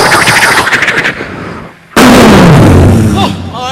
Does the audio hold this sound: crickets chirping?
no